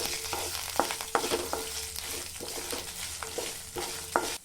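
Chana dal, cumin, coriander seeds and dry red chillies dry-roast in a pan, with a steady low sizzle broken by repeated sharp scraping and stirring knocks from a spatula, up close and without talk.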